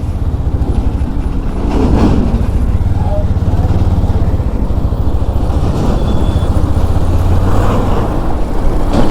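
Motorcycle riding along State Highway 9 from the Durgapur Barrage, a steady close low engine drone and road rumble with wind noise that holds throughout without a break.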